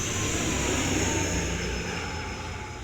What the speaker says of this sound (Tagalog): padaanin muna natin yung punyetang aeroplano